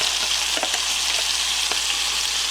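Bacon and chopped onions frying in a pan, a dense, steady close-up sizzle with a couple of faint stirring clicks and no talk.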